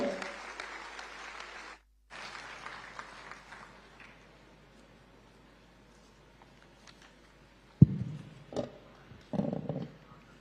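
Crowd applause at a Tamil Nadu government event with Chief Minister M.K. Stalin, marking the DMK government's four-year achievements: loud sustained clapping, a brief gap, more clapping that fades, then scattered louder bursts near the end.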